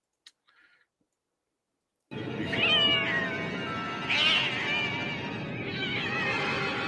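A cat meows loudly and close in a TV episode: after a couple of faint brief clicks and two seconds of silence, a long drawn-out, wavering meow runs to the end, with no talk over it.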